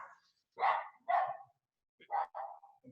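Dogs barking inside a home: four sharp, fairly close barks in two pairs with short gaps between them, and no one talking.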